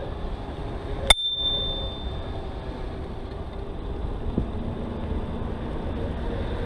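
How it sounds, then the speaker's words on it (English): A single sharp ding from the bell on a 2018 Riese & Muller Charger Mixte GT Touring e-bike rings out clearly and decays over about a second, then steady wind and road noise continue while riding. "Bike comes with a bell."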